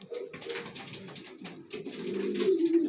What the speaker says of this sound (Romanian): Ăsta e porumbel care suportă văduvie singur pe boxă, fără femeie, cu lunile.